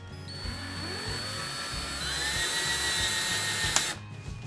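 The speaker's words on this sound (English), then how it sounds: "Let's get the screw in" Power drill driving a screw into a coffee bar build, a steady whining motor running continuously for about four seconds with a sharp pop near the end before it stops.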